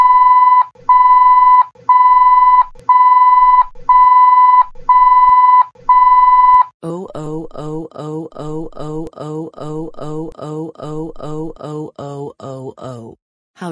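A loud censor bleep in a comedy sketch set at a Dunkin' Donuts sounds as a run of about six evenly spaced pure-tone beeps, followed by a rapid string of short buzzy pulses.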